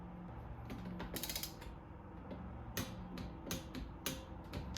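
Torque wrench tightening the cylinder base nuts on a Honda CR125 two-stroke engine to about 22 foot-pounds, with quiet ratcheting clicks and several sharp metallic clacks spaced irregularly, close and fairly faint, no voices.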